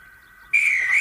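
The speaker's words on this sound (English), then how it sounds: "waited for the guard to blow his whistle" A faint steady tone, then a sudden loud, shrill train guard's whistle blast at a station that holds steady for about half a second.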